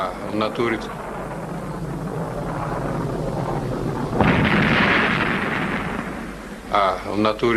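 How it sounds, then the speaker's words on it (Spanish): Rocket explosion during a launch at the Baikonur Cosmodrome: a sudden loud broadband roar that erupts mid-clip over steady rumbling and stays sustained, with talk heard at the start and end. "Este es el momento en que se produce la explosión."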